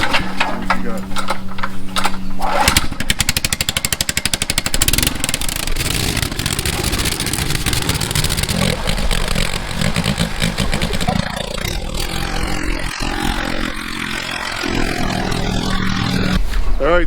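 A powered auger bores post holes in dirt, its small engine buzzing and clattering loudly and steadily for the whole stretch, with some voices mixed in.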